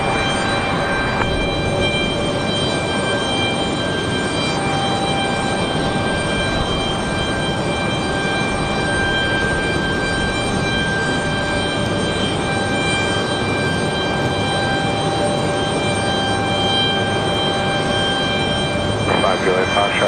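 Aircraft at Raleigh-Durham International Airport produce a continuous loud engine roar and whine that holds steady for the full stretch, with voices speaking intermittently over it.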